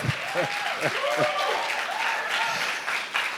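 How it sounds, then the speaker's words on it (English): A crowd applauds steadily, with voices and cheers mixed into the clapping. "Let's give them a round of applause."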